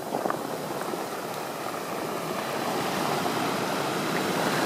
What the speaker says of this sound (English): do you hear that bubbling on the rocks?